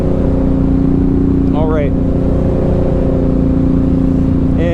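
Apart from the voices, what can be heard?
2007 Suzuki M109R motorcycle loud exhaust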